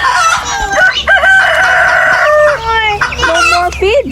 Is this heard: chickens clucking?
yes